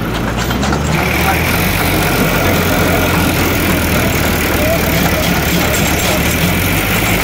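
Two tractors, a Kubota MU4501 and a Powertrac Euro 50, strain against each other in a tug of war. Their engines make a loud, continuous roar that does not let up, and voices can be heard through the noise.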